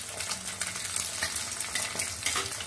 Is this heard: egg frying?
yes